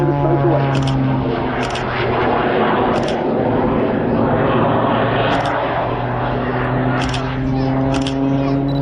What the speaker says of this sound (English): And this is a very small aeroplane.